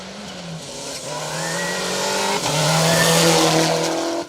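Mitsubishi Lancer Evo 6 Group A rally car on a forest stage at Trackrod Rally Yorkshire, its engine howling and rising through the gears as it passes close by, with tyres scrabbling on the loose surface.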